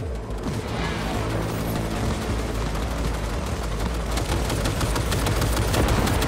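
Gunfire rattles continuously in Cyberpunk 2077, a loud, dense stream of rapid shots and impacts with no letup across the stretch.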